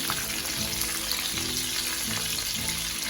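Meat pies (empanadas) frying in hot oil, with a steady dense sizzle throughout and low thumps as the pies are turned over, close and loud with no voices.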